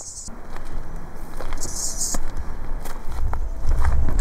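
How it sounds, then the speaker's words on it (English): Large cicadas at a relaxed hangout spot in Plovdiv give off bright, high, rasping buzz bursts, one at the start and a longer one midway, over a constant outdoor hiss and soft footsteps. "There's cicadas here that are just huge, absolute chunkers."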